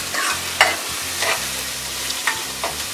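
Spices for sambar sizzle as they temper in hot oil in a pan, a continuous bright crackle close by, punctuated by several quick stirring scrapes and taps, with no voices.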